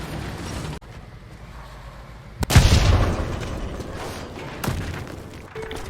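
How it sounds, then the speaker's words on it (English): Bombs detonate in War Thunder combat, a deep bassy boom erupting midway through and rumbling on, with a second lighter thump shortly after, over steady battle noise. "bomb explosions seem to be more bassy and better sounding too"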